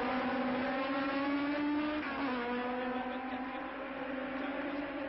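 Formula 2 race cars from 1971 roar at a steady high pitch through a race, with one engine note shifting down partway as the cars pass. The sound is loud and continuous, with no talk over it.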